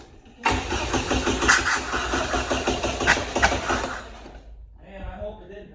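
A 1987 Dodge Daytona Shelby Z engine cranks and fires up loudly, running rough and uneven for several seconds before cutting out, after which voices talk briefly.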